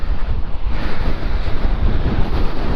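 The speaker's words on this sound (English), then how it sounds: "But wowzers, that's one wild sea." Strong gale-force wind and rough, wild sea waves on the UK south coast during a storm, loud continuous roaring surf with heavy wind buffeting the microphone, no talking.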